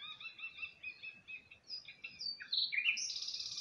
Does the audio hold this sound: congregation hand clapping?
no